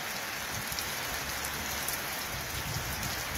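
Heavy rain pours steadily in cold weather at Lüderitz in Namibia's far south, a dense, even hiss of close drops on surfaces lasting throughout with no voices.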